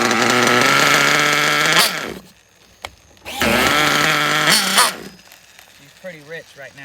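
A nitro RC engine running rich on a box tune, its loud buzzing whine with steady harmonics cutting out, then revving again before dropping to quieter sputters and background noise.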